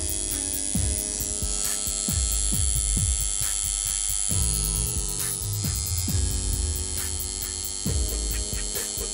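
A coil tattoo machine, freshly connected and set up, runs with a steady electric buzz and hum, its tone shifting slightly as it keeps going, with no talking over it.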